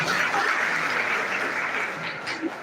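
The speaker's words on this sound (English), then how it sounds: "Please a round of applause for him." Continuous crowd clapping in a hall fills a career talk programme as a school director is welcomed, moderately loud and even throughout, with a faint voice near the end.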